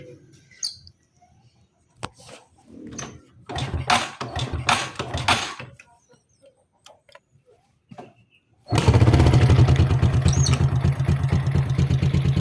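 A motorcycle engine with a noisy, rattling tensioner starts after some scattered clicks and knocks, then idles loudly and steadily with a fast, ticking rattle running through the close engine note.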